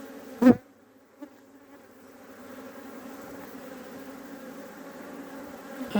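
Honey bees swarm and buzz around an open, aggressive beehive, a continuous close drone with a sharp knock near the start and the buzzing slowly growing louder.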